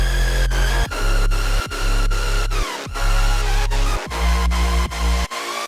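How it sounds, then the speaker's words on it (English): A simple EDM trance lead synth plays a bright melodic line, sliding between notes with portamento and washed in reverb, over pumping bass-heavy chords that cut in and out rhythmically; loud and upfront with no voices. "just a simple trance lead, really, like an EDM sort of trance lead with a little bit of portamento to slide between the notes"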